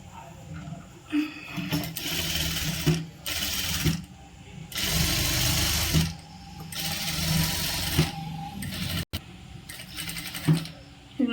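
A sewing machine runs in repeated bursts, stitching piping onto a churidar, each run of rattling stitches stopping briefly before the next. Someone talks between the bursts.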